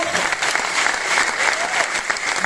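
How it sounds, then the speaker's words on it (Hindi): A hall crowd at a career counseling program applauds, many hands clapping in a bright, continuous patter that holds steady, with faint murmuring voices underneath. "ताली बजाओ फिर।"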